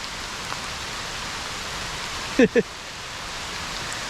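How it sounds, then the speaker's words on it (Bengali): Heavy rain pours in a steady, dense hiss throughout, with a brief voice cutting in for a moment midway. "জোরে বৃষ্টি এসে গেছে"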